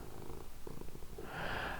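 Samson, an orange cat, purrs up close in a soft, continuous low rumble lasting about two seconds, with no talking.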